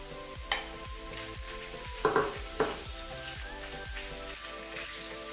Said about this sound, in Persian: یه مقداری خیلی کم روغن مایه ریختم داخل ماهیتابه، در گوشت چرخ کرده رو روش میریزم.